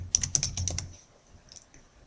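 Numbers are tapped out on a computer keyboard in a short burst of close, crisp keystrokes, followed by a pause and a couple of softer taps.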